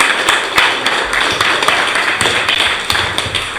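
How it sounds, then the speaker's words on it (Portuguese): An audience at a public debate applauding, a sustained crackle of many hands clapping with sharp individual slaps standing out, fairly loud and close, with no talk over it. "É uma salva de palmas para o povo que está lá na ocupação"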